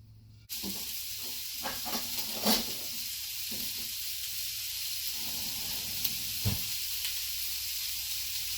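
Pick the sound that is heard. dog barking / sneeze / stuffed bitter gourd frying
stuffed bitter gourd frying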